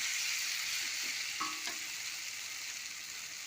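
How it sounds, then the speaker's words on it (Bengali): Water poured into a pan of sizzling spiced potato masala, with steady loud frying hiss throughout and a brief splash-like burst near the middle, no talking. "আমি এবার জল দেবো পরিমাণ মতন।"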